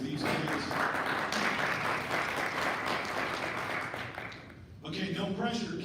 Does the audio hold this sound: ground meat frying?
no